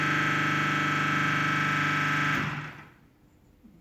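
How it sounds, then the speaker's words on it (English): The hydraulic pump of a Labopress P200T table press runs with a steady, tonal mechanical hum while building pressure, then cuts off and fades to near silence. "the hydraulic pump is building up the pressure"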